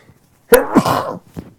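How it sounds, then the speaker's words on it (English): A single loud, close sneeze brought on by snuff erupts abruptly, followed by a short breathy exhale, with no talking. "I'm going to sneeze because of the snuff."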